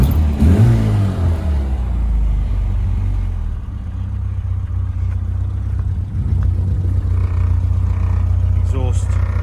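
A modified Mini with a 1275cc engine starts and revs hard near the start, then settles into a steady, loud engine note. A brief rev rises again near the end.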